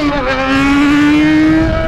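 Yamaha XJ6 motorcycle running on its stock exhaust, a steady loud engine drone with a strong low tone that sags slightly and then holds, close by with no talk over it.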